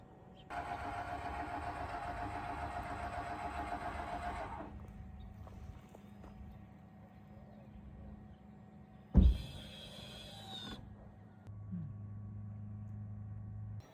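A Pebble Flow travel trailer's Magic Hitch self-hitching system whirs loudly and steadily for about four seconds. A sharp clunk follows, and then a low, even electric hum continues nearby with no talking.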